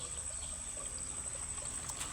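Spring water trickling from a natural source in Mindanao, a soft continuous dribble and pour that runs steadily and faintly throughout with no one talking.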